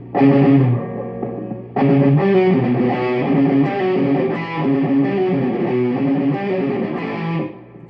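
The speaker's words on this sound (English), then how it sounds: "One more time with a little bit more distortion." Heavily distorted electric guitar chugs through a loud riff, a short gap near the start, then continuous playing until it cuts off.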